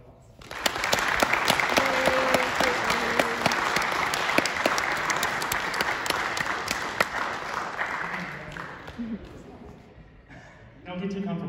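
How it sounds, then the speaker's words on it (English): Applause from a college string ensemble concert audience rises quickly and holds, with crisp individual claps and a few whoops, then fades as a voice begins talking at the end. "let's give her a big round of applause"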